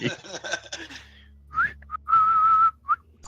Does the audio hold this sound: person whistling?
yes